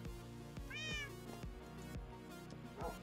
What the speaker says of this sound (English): We have a cat.